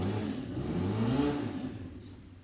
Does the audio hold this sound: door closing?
no